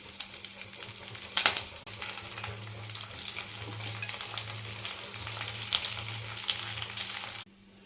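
A tempering of spices, dried chillies, curry leaves, cumin, green chillies and drumstick leaves frying in oil: an even, close crackle with a couple of brief sharp clatters and a low pulsing hum beneath, cutting off near the end.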